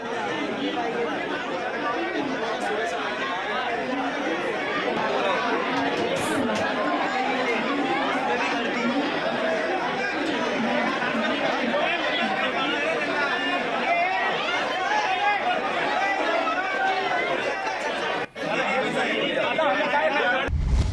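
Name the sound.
crowd of passengers at Badlapur railway station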